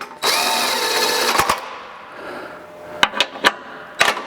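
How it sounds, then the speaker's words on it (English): A power tool runs for about a second and a half while tightening bolts on a John Deere 40/90 chain roll. Then come several short loud bursts as the bolts are snugged down, with no talking. "snug them up, and then you can go ahead and tighten them all the way down"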